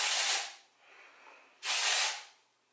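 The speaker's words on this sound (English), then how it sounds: "I'm just gonna lift up my hair and kind of spray" Two short bursts of dry shampoo aerosol spray hiss up close, separated by a brief quiet pause.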